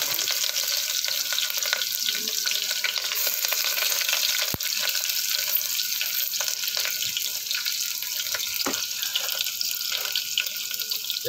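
Onions and garam masala frying in a pressure cooker for egg biryani, a steady close sizzle with faint stirring scrapes and a few sharp clicks throughout.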